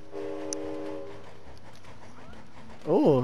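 Train rolling along in the video game It Takes Two, a steady rumbling drone with a horn-like tone early on, under people chatting, ending in a rising melodic game sound.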